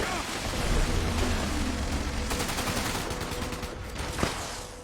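Rapid gunfire in the video game Fallout 76, a dense, noisy barrage of overlapping shots that is loud and continuous, ending with a sharper single crack.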